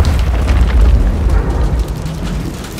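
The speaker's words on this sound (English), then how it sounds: "Friendly cruise missile deployed." A cruise missile explodes in Call of Duty MW3, a deep rumbling boom that rolls on for a few seconds, loud and bass-heavy.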